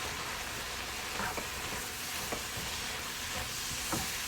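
Chard leaves stir-fry with chili pepper and seasoning, a faint, even hiss of frying dotted with a few soft clicks from stirring.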